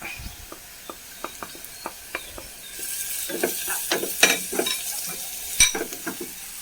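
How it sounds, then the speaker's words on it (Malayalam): Chili, turmeric and garam masala powders sauté in a pan for tomato upma, with a spatula scraping and tapping in a steady series of clicks and a sizzle that grows louder and fuller halfway through. "അതിൻ്റെ പച്ചമണം മാറുന്നവരെ ഒന്ന് വഴറ്റി കൊടുക്കാം"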